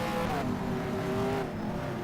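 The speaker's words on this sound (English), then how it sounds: "the revs come up with the launch control on. Away they go, the revs dip again, and into turn 1." V8 race cars in the rFactor racing video game roar steadily as they launch and accelerate, a dense overlapping engine drone with rising and dipping revs and no talking.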